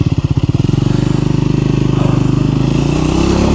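A Triumph Scrambler 400X motorcycle rides along, its engine thrumming steadily and loud up close, with a rapid pulsing beat that settles into a smooth continuous drone.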